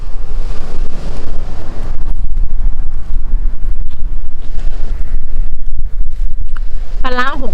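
Strong wind at the seaside buffets the microphone in a loud, continuous roar with a low rumble of surf beneath, and a brief voice breaks in near the end.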